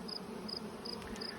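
Honey bees buzz around an open hive producing buckwheat honey, a faint steady drone with a few short higher whines from bees passing close, no voices.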